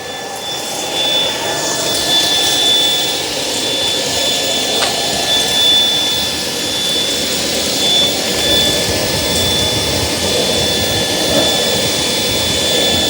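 A Shark Power Detect cordless stick vacuum (IP3253) runs against a floor edge with a steady, loud, whining motor hum and rushing airflow, a faint high tone holding through the noise.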